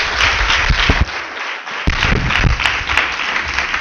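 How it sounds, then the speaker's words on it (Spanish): A church congregation claps loudly in praise after a testimony, a sustained, fairly close round of hand-clapping with scattered sharper claps and a few low thumps, sounding alone without talk. "Démosle un fuerte aplauso al Señor"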